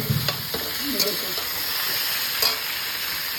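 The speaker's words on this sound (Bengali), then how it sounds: "আলুটা কিন্তু এখন ভেজে নেওয়া হচ্ছে" Boiled potatoes frying in a pan for a soybean dish, sizzling loudly and steadily up close, with a few stirring scrapes and knocks near the start.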